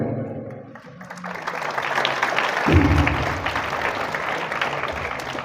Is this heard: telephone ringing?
no